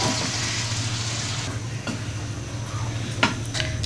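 Chopped bottle gourd going into fried spices in a pan, a steady oily sizzle with a few scraping stirs and one sharp utensil knock near the end.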